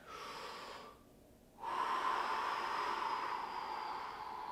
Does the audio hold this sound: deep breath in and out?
yes